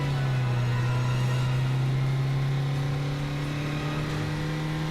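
A jeep engine speeds along in an African safari setting, a steady loud droning hum that holds its pitch with a slight rise and dip, running continuously without pause.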